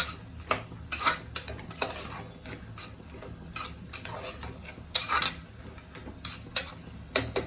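Vegetables and tomato for a veg kurma are stirred in a pan, with repeated close scrapes and clinks of a spoon against the metal in an uneven rhythm and no talking over it.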